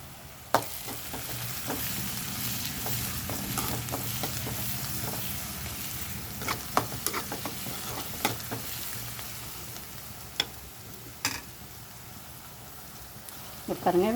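Onions and garlic sauté in a pan for a dry fish dish, giving a steady close sizzle broken by occasional sharp clanks of a spoon stirring against the metal.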